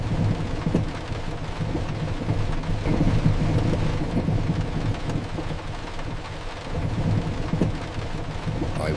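Steady rain falls on a rainy night, with low rumbles of thunder rolling beneath it; a continuous, moderately loud wash of rain with no voices.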